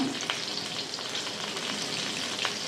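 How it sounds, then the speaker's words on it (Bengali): Potatoes fry in a pan, browning in hot oil, with a continuous near sizzle and small popping crackles, no voices. "আলুগুলোকে লাল করে ভেজে নেবো"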